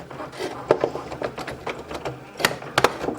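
A Cricut cutting machine slicing small vinyl designs for spice labels gives off a run of quick mechanical whirs and clicks, with a few louder sharp bursts near the end, close and alone.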